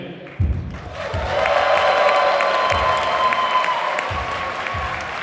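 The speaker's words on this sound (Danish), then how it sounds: "Må vi lige prøve at høre, hvor meget I kan hude, klappe og trampe på sådan en dag" An audience at a Vejgaard Gymnastikforening gymnastics display claps, cheers and stomps in a loud, continuous roar, with heavy rhythmic thuds of feet pounding beneath the applause.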